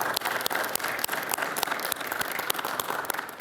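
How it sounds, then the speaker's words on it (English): Attendees at a Hartford organ donation press event clap in a round of applause for the DMV, a fairly small crowd producing dense, slightly uneven clapping that carries on steadily throughout. "I just want to give a round of applause to DMV"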